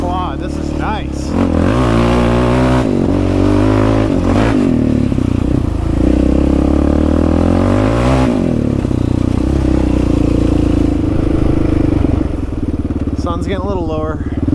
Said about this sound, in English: I'm feeling more confident on the quad.